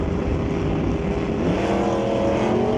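Drag race cars, a Plymouth and a Chevrolet S10, launch off the line with a loud, steady engine roar whose pitch climbs partway through.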